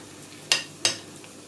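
Two quick, crisp scrapes of a utensil tossing whole pistachio nuts through a salad in a bowl, close and fairly clear, with a short pause between them and nothing else around.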